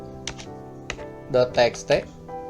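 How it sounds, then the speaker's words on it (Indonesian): Fast clicks of keys being typed on a computer keyboard, a few scattered taps followed by a quick cluster of louder strokes. Someone talks over the keys. "Kita ketikkan command ls lebih dari"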